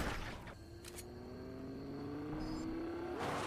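Car engine in the video game Fortnite, a steady hum that climbs slowly in pitch, with background game noise and no one talking.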